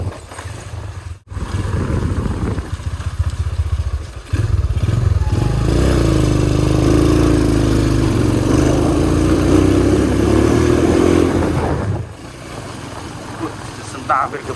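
A Honda GL100 motorcycle fitted with a Diablo crankshaft labours uphill, its engine droning and clattering loudly and steadily close by, with a rider talking over it at times.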